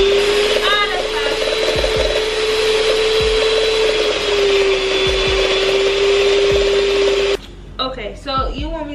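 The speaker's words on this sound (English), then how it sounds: "now that we have all of our dry ingredients, we're gonna give this a mix" An electric mixer whirs through dry ingredients for a from-scratch sweet potato pie, a loud, steady motor drone for about seven seconds that cuts off abruptly, followed by brief clatter and rustling.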